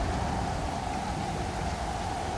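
Rain falling steadily in the survival video game Stranded Deep, a constant even hiss of droplets with no breaks or distinct individual drops across the whole stretch.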